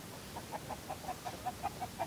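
A flock of backyard chickens clucking softly at moderate distance, a steady series of short, evenly spaced clucks over faint outdoor background, with no one talking.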